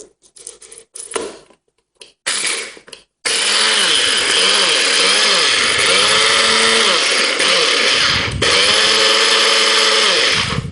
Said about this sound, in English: Okay, so I'll grind this up.